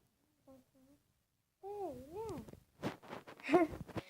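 Two soft cat meows, then a long, wavering meow up close, followed by a voice speaking and another short meow.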